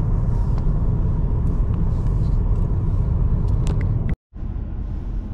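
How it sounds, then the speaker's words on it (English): Dense road traffic rumbles steadily through a busy Johannesburg section in the rain, with car engines droning close by and a brief dropout near the end before the low roar resumes. "lots of traffic here in this section"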